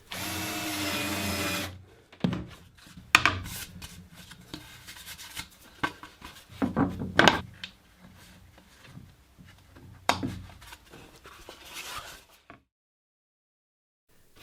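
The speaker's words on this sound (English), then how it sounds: "we can drill a 4mm hole through the top piece and countersink the underside" A power drill whirs loudly for a couple of seconds boring a 4mm hole through wood, followed by several shorter bursts of drilling and scraping at close range.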